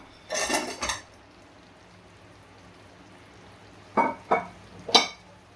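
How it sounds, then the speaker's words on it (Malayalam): Fried chicken pieces for restaurant-style Chicken 65 tumble into a pan, then a spoon scrapes and stirs them in a few sharp clattering bursts, with a quiet pause between. "ഇനി നമുക്ക് ഈ ചിക്കൻ ഫ്രൈനെ ഇട്ട് കൊടുക്കാം"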